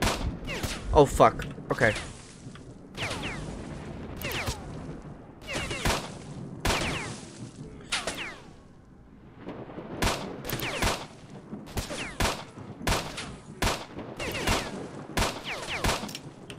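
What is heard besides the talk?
gunfire in the video game S.T.A.L.K.E.R.: Shadow of Chernobyl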